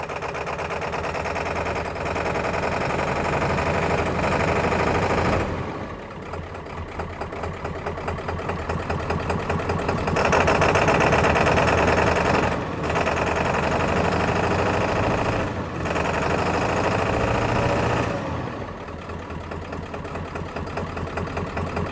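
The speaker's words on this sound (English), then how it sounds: "let me rev it up a little bit" A Ford F350 pickup engine, running rough and starving for fuel, revs in a continuous loud roar that surges and eases through several steady stretches, with no talk over it.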